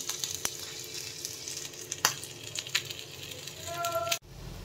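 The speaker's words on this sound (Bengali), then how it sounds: "এবার আমি এগুলোকে একটা গোল গোল শেপ দিয়ে এগুলোকে ভাজবো।" Vegetable kofta balls fry in hot mustard oil with a soft, steady sizzle and scattered crackling pops, ending in a brief clunk.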